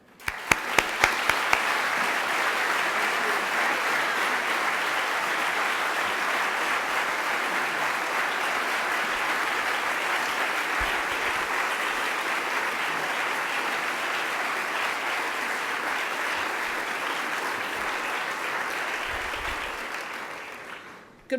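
Sustained audience applause welcoming President Biddy Martin, a steady loud wash of clapping from a large crowd with a few sharp individual claps at the start, lasting about twenty seconds with no talk.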